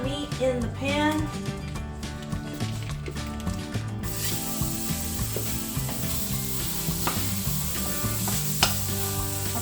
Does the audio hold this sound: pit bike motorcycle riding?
no